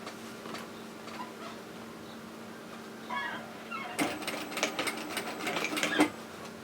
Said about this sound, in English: We're just going to top stitch that edge closed.